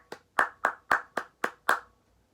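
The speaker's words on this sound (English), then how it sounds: "I don't have to clap my hands to do the rhythm." Hands clap out a steady rhythm of seven sharp, close claps, evenly spaced and alone, with silence after the last one.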